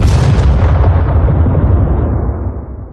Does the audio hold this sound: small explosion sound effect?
yes